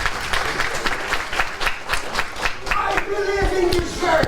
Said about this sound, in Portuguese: Pode aplaudir ele.